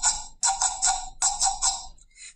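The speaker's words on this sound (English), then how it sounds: "So the guiro is a scraper, and it sounds like this." A hand-held guiro rasped with a small scraper stick across its ribs, classroom percussion, giving repeated bursts of close, bright scratchy strokes in a back-and-forth rhythm with brief gaps between groups.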